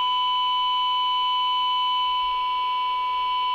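A Senhaix GT-12 handheld radio receives a signal generator tone, heard as a steady, continuous pure whistle with a faint hiss behind it and no pauses.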